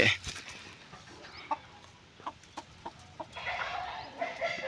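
Hens clucking in short, scattered bursts at close range, with several sharp calls spaced irregularly over quiet background noise.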